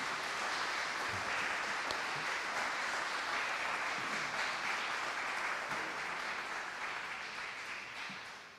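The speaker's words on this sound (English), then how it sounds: "keep some applause, because you need also to cheer the Monaco Blue Initiative Steering Committee under the leadership of Bernard." Sustained applause from a conference audience at the Monaco Blue Initiative, a broad, even wash of many hands clapping at a moderate distance, tapering slightly toward the end.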